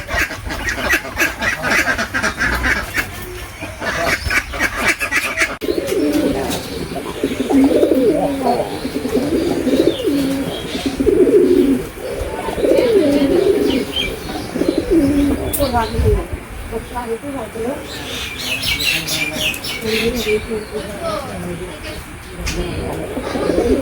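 Pigeons coo steadily in a low, rolling chorus close by, with occasional fluttering and people talking over them throughout.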